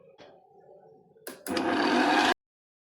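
An electric mixer beating butter and sugar for a Christmas fruit rava cake batter, a steady whirring drone that starts abruptly after a soft hum and some clatter, then stops cleanly.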